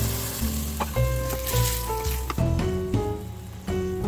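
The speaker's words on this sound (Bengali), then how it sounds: "এবার আমি এতে যে পালং শাকের পেস্টটা বানিয়ে রেখেছিলাম সেই পেস্টটা এতে দিয়ে দেবো।" Spinach paste goes into a pan of sizzling masala for palak paneer, and a steady frying hiss carries on throughout under background music.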